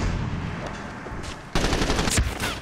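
Gunfire from the Medal of Honor Warfighter video game: automatic bursts crackle at a distance, then turn louder and denser after about a second and a half as a close, sustained volley.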